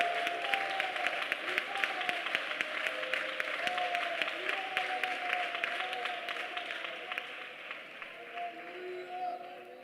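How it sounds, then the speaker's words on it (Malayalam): A congregation at a 21-day fasting prayer meeting at the IPC Prayer Centre, Thiruvalla, claps hands in praise, a dense rhythmic clapping that rolls on steadily over music and voices before easing slightly toward the end. "ഈ രാത്രി കൈയടിച്ച് യേശുവിന് മഹത്വം കൊടുക്ക"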